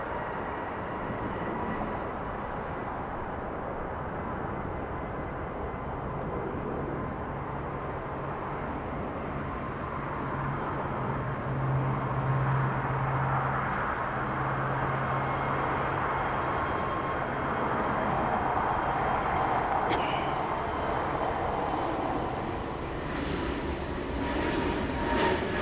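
A Lufthansa Boeing 747 jet airliner passing at Los Angeles airport produces a long, broad roar that swells gently midway and again near the end, with a brief low tonal whine, lasting about twenty-five seconds with no talk.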